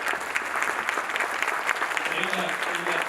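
An audience at a 100th annual membership banquet gives a steady round of applause, with dense, even clapping filling the room while a voice carries on over it.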